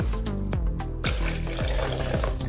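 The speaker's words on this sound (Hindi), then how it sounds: "अब इसमें हम पानी डालेंगे" Water poured from a vessel into a batter of rice, gram flour and curd for a quick rice breakfast, a close splashing pour with a few gurgling glugs, no talk.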